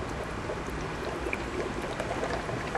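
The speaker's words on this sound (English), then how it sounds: "See the bubbles of hydrogen" Hydrogen bubbling up through water in an electrolysis rig feeding an engine, a continuous fizzing, burbling rush at moderate level that stays steady throughout, close by and with no talking over it.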